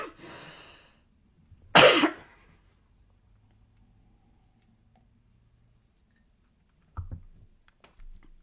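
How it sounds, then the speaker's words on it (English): A man coughs: one loud, close, harsh cough burst near the start, then quiet, with a couple of softer short throat sounds toward the end, no talking. "So let me cough and drink some water"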